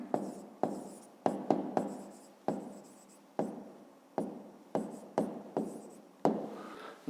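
Pen or marker strokes scratching out a math answer on paper, about a dozen short, sharp scrapes in an uneven rhythm, close and fairly quiet, with no talking.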